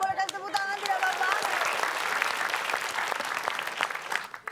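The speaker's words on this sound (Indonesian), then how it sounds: "Boleh kasih tepuk tangan tidak Bapak?" A studio audience on a quiz show bursts into brisk applause and crowd noise. A voice calls out over the clapping at the start, and the applause carries on steadily before tapering off.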